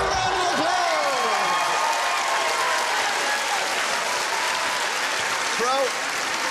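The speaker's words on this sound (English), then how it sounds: "give a round of applause" Studio audience on a TV dating show bursting into sustained loud applause with a few whoops, a dense wash of clapping that stays even throughout while voices carry over it.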